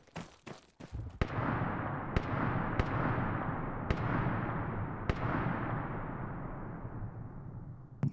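Gunfire in Arma 3: a quick burst of close shots, then single loud cracks spaced a second or so apart, each followed by a long rolling echo that fades slowly.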